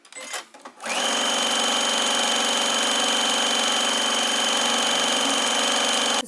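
A sewing machine top-stitching both sides of pressed dress straps runs in a steady, fast, close whir from about one second on, after a few faint handling noises at the start.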